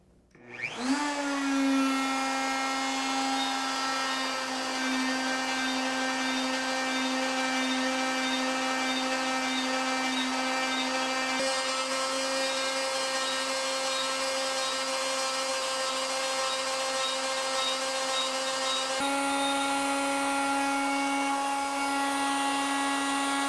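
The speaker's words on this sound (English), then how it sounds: "I'll turn on the router, and then I'm going to rotate the stock clockwise." Wood router spinning up and cutting rotating wood stock clockwise, a loud steady high whine with strong harmonic tones that holds for over twenty seconds alone, shifting slightly in pitch midway.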